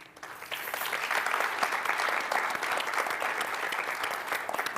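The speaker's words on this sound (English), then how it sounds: "applause welcome and appropriate" Steady applause from an audience at a panel on civil rights and human rights, building quickly after a brief quiet start and then holding as dense, even clapping for several seconds with no voices over it.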